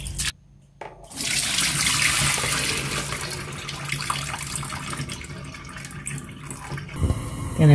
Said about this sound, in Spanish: Se lo lavo una vez más para sacarle el agrio que tiene.